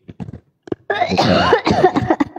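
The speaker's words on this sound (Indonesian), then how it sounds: "Sampai batuk-batuk aku" A few short syllables, then a burst of harsh, raspy coughing, several rough hacks in quick succession, close and loud.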